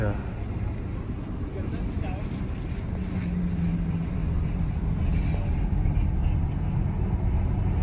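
Racing cars at the Tour Auto run flat out nearby, a continuous loud engine and road roar that builds slightly over several seconds, with voices talking underneath.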